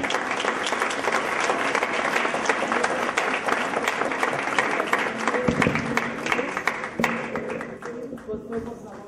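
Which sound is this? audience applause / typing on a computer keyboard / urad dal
audience applause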